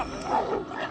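A single dog gives one short bark or yelp, close and fairly loud, lasting under a second.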